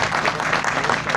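Audience applause during a comic poetry recital, a dense, loud burst of clapping from a crowd filling the whole short moment.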